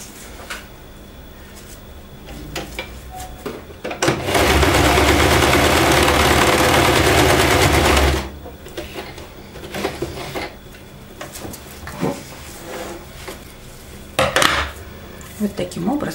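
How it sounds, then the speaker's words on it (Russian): A sewing machine stitches fabric strips back and forth in one loud, steady burst of about four seconds, with quieter handling clatter before and after. "теперь нам надо полностью их прострочить вот так туда-сюда"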